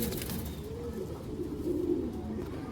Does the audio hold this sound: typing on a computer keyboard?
no